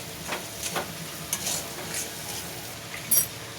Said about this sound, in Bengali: দিয়ে খুব ভালোভাবে নাড়িয়ে নেব।